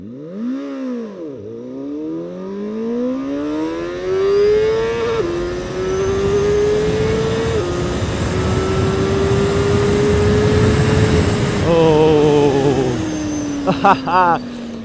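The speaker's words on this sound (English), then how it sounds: "This was my first time ever launching this bike from 0 to 100." CFMoto Voom 500 SR motorcycle launching from a standstill and accelerating hard toward 100, engine pitch sweeping upward through a few gear changes, loud and near with wind noise building, no talking.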